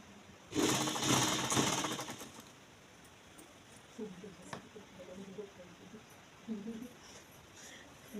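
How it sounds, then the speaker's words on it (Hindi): A sewing machine runs a loose basting stitch on kurti fabric in a boutique: one loud whirring run of about a second and a half, then quiet, with someone talking softly afterward. "ये भी कच्ची सिलाई लगेगी।"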